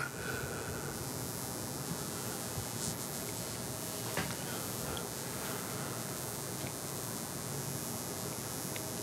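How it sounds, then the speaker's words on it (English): An electric tattoo machine buzzes steadily and continuously in the background, a faint insect-like drone under constant hiss with no pauses. "Yeah, I got a tattoo machine in the background."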